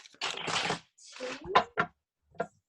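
Tarot cards are shuffled in a few short riffling bursts, each a brief papery flutter with sharp snaps between them, close and fairly quiet.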